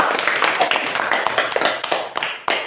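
A classroom of students clapping together for a student group, a dense, steady burst of many hands close by, with scattered individual claps standing out and a voice or two mixed in.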